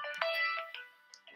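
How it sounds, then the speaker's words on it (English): A mobile phone rings with a short bright electronic melody of a few tonal notes, clear and close in a quiet room. "That is my phone."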